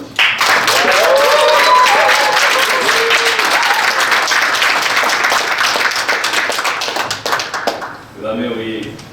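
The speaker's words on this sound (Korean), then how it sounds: "큰 박수 주십시오" Audience applause at a Korean CEO MBA program graduation ceremony, a loud dense burst of many hands clapping that fills most of the clip, then fades near the end as a voice starts talking.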